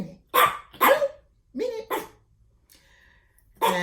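An excited puppy that wants to play gives several sharp, close barks in quick bursts, and a person speaks briefly among them.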